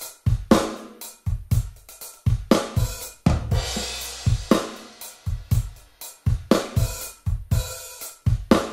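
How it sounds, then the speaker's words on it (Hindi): A compressed snare drum plays a steady repeated pattern as the compressor ratio is raised, each hit sharp and punchy with a short controlled tail, loud and alone. "अब आप सुन पा रहे होंगे और देख भी पा रहे होंगे कि हमारे स्नेयर की वॉल्यूम काफ़ी ज़्यादा कंट्रोल्ड"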